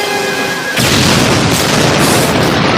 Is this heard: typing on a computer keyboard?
no